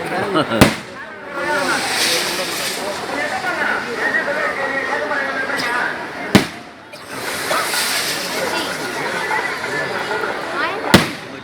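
Sharp firecracker bangs burst out three times, widely spaced, over a noisy crowd at a Tamil temple festival, with people talking and shouting throughout.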